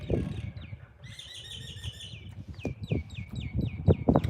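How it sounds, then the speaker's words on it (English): Small birds chirp and tweet nearby in repeated quick trills and rising notes, a busy run of calls over low rumbling and thumping background noise. "Those birds, man."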